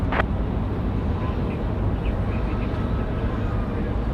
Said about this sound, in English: It's A321 pulling out.